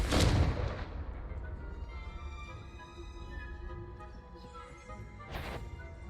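A Confringo fire spell in Hogwarts Legacy lands with a sharp, loud blast that booms and quickly fades, followed by a softer second burst later, over sustained game music.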